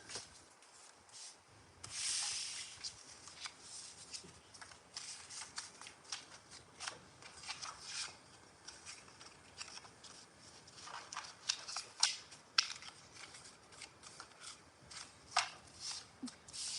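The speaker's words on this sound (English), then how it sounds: "So let me shuffle." Tarot cards being shuffled by hand at close range, soft repeated riffling and rubbing bursts in an irregular rhythm, quiet throughout.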